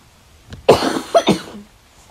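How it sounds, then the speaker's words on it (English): A few sharp coughs close by, a short burst of two or three hacks with a quiet room around them. "Sorry, I have a cough."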